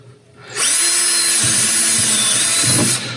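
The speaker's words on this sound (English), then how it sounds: "I'm basically going to be drilling straight through" A power drill bores straight through a wooden bait stick for wildlife traps, a loud, steady close-up whine lasting nearly three seconds, with the motor pitch dipping briefly as the bit bites through the wood.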